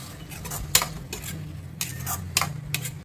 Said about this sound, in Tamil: நம்ம நல்லா வதக்கி விட்டுலாம்.